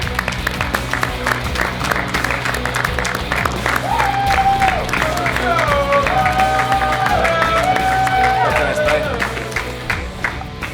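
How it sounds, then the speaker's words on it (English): Steady, loud audience applause and cheering fill a hall at a Rocket League esports event, sustained throughout with a crowd roar and a voice speaking over it. "Give him a round of applause that he deserves"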